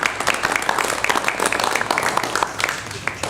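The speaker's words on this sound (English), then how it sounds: "Let's give these two young ladies a very deserved hand clap." Audience at a monthly meeting of an Indian women's federation clapping for two young ladies, a scattered, moderately loud round of hand claps from a room, steady throughout with some voices mixed in.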